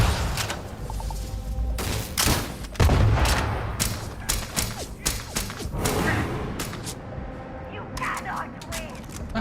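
Combat noise in Starfield, including a grenade explosion: a string of loud thuds, bangs and sharp shots in irregular bursts, with a heavy blast partway through and talking mixed in.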